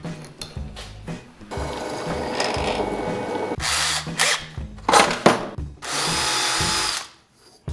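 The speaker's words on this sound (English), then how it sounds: "So I'll use the drill press to drill out these so they're nice and vertical" A drill press whirs loudly in several runs, its pitch shifting as it bites into wood, with clunks and pauses between bursts.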